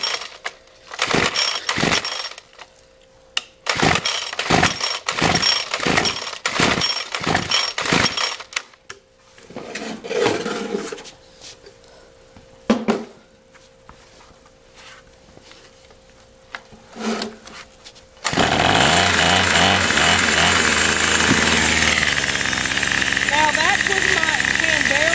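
A Craftsman weed eater with the choke on gets several sharp pull-starter tugs, then the small two-stroke engine catches and runs loudly and roughly for a few seconds.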